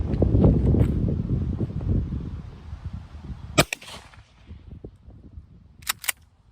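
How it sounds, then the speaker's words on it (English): A 20 gauge shotgun loaded with Rio Royal No. 1 buckshot fires one sharp, loud report outdoors at a 25-yard range, after windy rumble and followed by a couple of fainter clicks. "Let's take another shot and see what the pattern does on this one."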